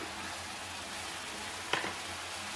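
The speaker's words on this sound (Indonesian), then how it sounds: "Ini yang pertama saya lelehkan seperti ini sampai keluar minyaknya begitu bening" Butter melting in a pan gives a steady, quiet broadband sizzle throughout, with one brief louder crackle near the end.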